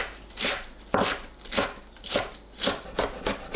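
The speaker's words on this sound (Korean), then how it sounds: "파 한 뿌리 쫑쫑 썰어주세요." Knife chopping a green onion on a board, about eight crisp, evenly spaced cuts, each a short crunchy tap, close and moderately loud with no talk.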